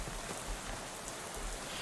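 Rain falls in the video game Shadows Over Loathing as a steady, dense hiss of drops on surfaces that goes on without a break, soft and with no voices.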